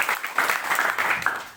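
A short burst of applause from a church congregation, steady broadband clapping throughout with no talking.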